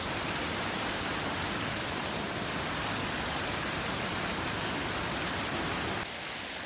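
Small waterfall beside a logging road in the mountains rushes as a steady, broadband hiss of falling water, constant and unbroken before cutting off near the end.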